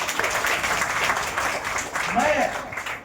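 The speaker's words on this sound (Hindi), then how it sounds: "विद्यालय मकैया के अभिभावकों के लिए ताली भरपूर होनी चाहिए।" Parents at a school parent-teacher meeting at UMS Mataiya are applauded with a steady, diffuse wash of clapping from a crowd in a hall; it sounds moderately loud and even throughout, with a voice faintly present.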